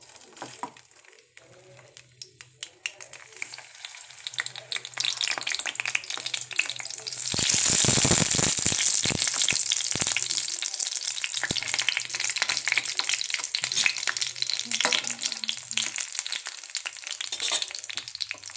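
Patties made of fish eggs go into hot oil in a pan. A quiet start swells into a loud, steady, close sizzle partway through, with faint stirring clicks and no voices.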